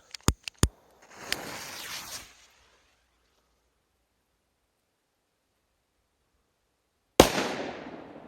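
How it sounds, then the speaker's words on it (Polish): Several sharp firecracker bangs in quick succession, including Thunder King and Maxsem P1000 firecrackers, followed by a fizzing hiss, then silence before one more loud crack with a crackling tail. "Są tu moje ulubione petardy. Teraz lecimy z CE"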